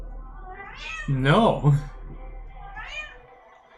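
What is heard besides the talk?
cat meowing with clicking sounds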